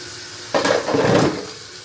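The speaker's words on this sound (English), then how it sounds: "Some soap on it. Just a good basic rinse." Tap water running over a soaped pot in a home kitchen sink, a sudden splashing rush that swells for about a second and then eases off, alone with no voices.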